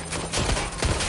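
Gunfire in the video game Watch Dogs, a dense, loud barrage of rapid shots and impacts packed together without pause, close and harsh, with no speech over it.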